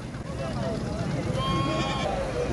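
At a goat and sheep market, sheep bleat in several wavering calls, close and clear, over crowd noise and someone talking.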